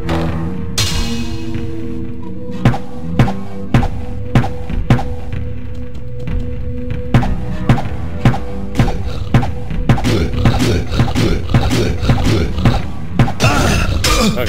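Bow shots in Diablo, heard as a series of sharp, punchy thunks that start sparse and grow quicker and denser toward the end, over a low steady game drone.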